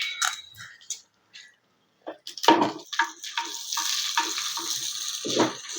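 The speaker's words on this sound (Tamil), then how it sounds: "இப்போ வடகம் நமக்கு நல்லா பொரியுது" Vadagam, garlic and onion frying in a pan for a nethili fish curry, an intermittent close sizzle with stirring that settles into a steady hiss, with no voices.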